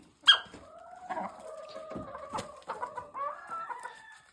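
Hens, including a partridge-colored F1 cross, cluck and murmur close by, with a short sharp squawk near the start and a steady run of throaty calls afterward.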